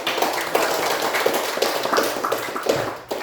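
A classroom audience claps for a student group, a brisk, dense patter of hand claps filling the room steadily from start to finish.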